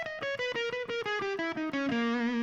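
Distorted electric guitar plays a fast descending run from a song's solo, rapid picked notes stepping downward before settling on a sustained final note, loud and close.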